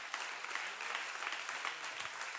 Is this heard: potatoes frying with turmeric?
no